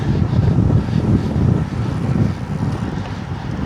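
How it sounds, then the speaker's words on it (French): A strong headwind buffets the microphone while cycling, a loud, steady roar of wind with no break, alone and without voices. "Ah putain de vent dans la gueule"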